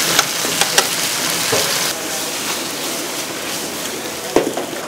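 Garlic stir-frying in a hot pan for a garlic miso stir-fry, a steady close sizzle with scattered sharp crackles and pops throughout, no talking.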